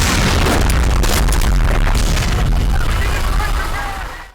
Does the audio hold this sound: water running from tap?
no